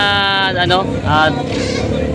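A native goat at a goat sale bleats loudly and close by, two wavering cries in quick succession over low background murmur.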